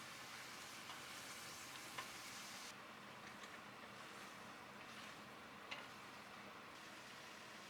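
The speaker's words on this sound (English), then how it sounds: "Mix and fry everything well for 5 minutes." Chunky mutton pieces fry with masala in a pot, a faint steady sizzle with occasional stirring knocks, quiet and continuous, without voices.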